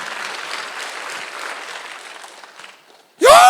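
Congregation applauding during a Korean Sunday church service, a moderate wash of clapping that tapers off into near silence before a loud, sudden tonal sound cuts in at the end.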